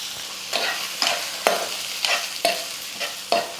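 Ground peanut, chilli and garlic powder being mixed into a drumstick fry in a pan, a steady sizzle punctuated by about seven regular scraping strokes of a spoon, close and with no talking.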